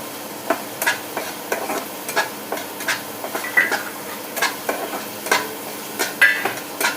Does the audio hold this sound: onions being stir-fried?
yes